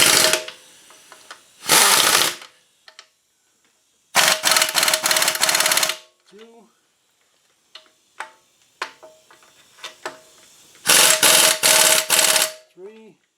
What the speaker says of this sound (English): now we're going to tighten down these nuts in the back.